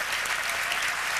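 Steady, dense applause from a large audience at a comedy awards gala, continuous and fairly loud throughout with no talk over it.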